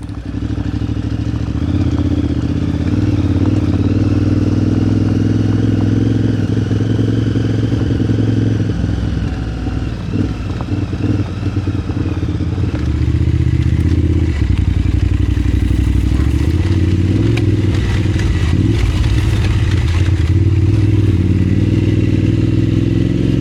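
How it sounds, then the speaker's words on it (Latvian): Two motorcycles pass by on a road in Montenegro, a loud, close engine roar that swells and rumbles on continuously with clattering and low thumps throughout. "Two motorcycles coming."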